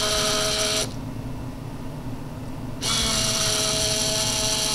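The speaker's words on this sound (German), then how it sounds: "jetzt wird praktisch der Kraftstoff vom Tank aus wieder in das Filtergehäuse gepumpt" Electric fuel pump on a VW 2.0 TDI common-rail diesel priming the fuel filter: a steady, close whirring buzz that drops away for about two seconds, then resumes at the same level.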